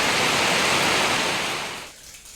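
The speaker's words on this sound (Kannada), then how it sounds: "ಮಳೆ ಸ್ವಲ್ಪ ಕಮ್ಮಿ ಐತಿ ಈಗ." Steady hiss of rain falling outside during a monsoon day fills most of the moment, then drops away abruptly near the end.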